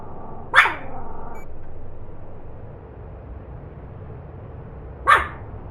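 A dog barks twice at a bird outside, a few seconds apart, each bark loud and close against a quiet indoor background.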